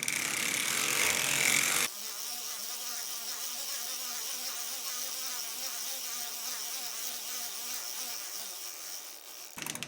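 A circular sock knitting machine knits rounds for a sock hem, making a continuous whirring, ratcheting mechanical buzz close by after a brief louder noisy start.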